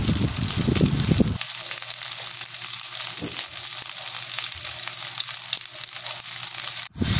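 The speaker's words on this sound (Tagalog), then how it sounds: "Atin pong pinagsabay ng igisa ang bawang at saka ang sibuyas." Garlic and onion sauté together in a hot pan, with a steady bright sizzle. A low rumble underneath drops away after the first second and a half, and a sharp clatter comes near the end.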